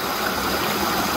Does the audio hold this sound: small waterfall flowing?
yes